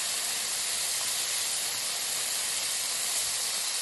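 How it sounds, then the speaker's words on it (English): Tomato paste and tomatoes sizzle in a hot pan, a steady, close, bright hiss that stays even and unbroken from start to finish with no talk. "In goes the tomato paste."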